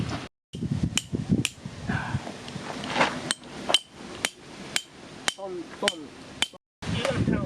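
Small hammer striking at a camping site, a series of sharp separate taps at an irregular pace, fairly close, with quiet rustling between blows.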